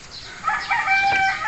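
A rooster crows once in a short, bright, strained call at moderate distance, heard alone over faint outdoor background.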